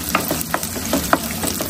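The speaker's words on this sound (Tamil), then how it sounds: "இது வந்துட்டு சின்ன வெங்காயம் போட்டு நம்ம வதக்கியாச்சு." Small onions sauté in hot oil in a pan, a soft steady sizzle with several light stirring scrapes and clicks spaced through the short stretch, close and without talk.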